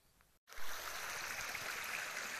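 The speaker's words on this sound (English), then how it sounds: "This is a cobble bottom creek." Badger Creek in Victoria, a cobble-bottomed creek, flows with a steady, broad rushing and babbling that cuts in suddenly and stays constant and close.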